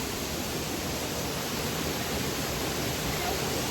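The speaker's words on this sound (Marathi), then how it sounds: "आणि हा वरच्या बाजूला हा धबधबा आणि वरतून तो वाहत येतो" A waterfall in the Kokan countryside pours down from above in a steady, even hiss of falling water. The sound is moderately loud and unbroken, with no voices over it.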